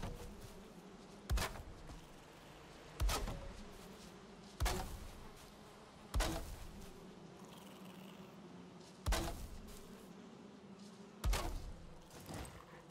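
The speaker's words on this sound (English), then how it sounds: "Bees are happy." Beehives in the video game Valheim hum with a soft, steady insect-like buzz, broken by six evenly spaced dull thumps. No one talks.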